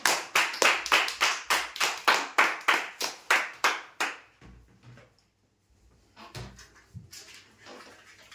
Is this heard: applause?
yes